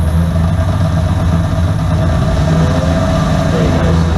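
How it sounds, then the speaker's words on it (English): An alternator converted into a motor runs under a load test, a loud, continuous low droning hum with a strained, labouring quality that holds steady throughout. "so it's really struggling at the moment"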